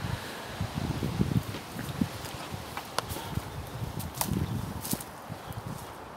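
Gusty wind rustling through leaves outdoors, a continuous textured rush with irregular bumps and brief sharp knocks.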